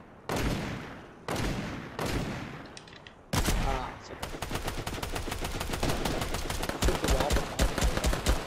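Gunfire in the video game Fortnite: several single heavy shots spaced about a second apart, then a sustained rapid burst of automatic fire, loud and close, with faint talk underneath.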